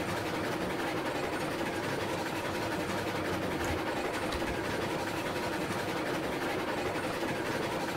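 A steam locomotive working up speed in the video game RailRoads Online makes an even, constant engine drone with rail rumble, steady and unbroken from start to end, with no voices.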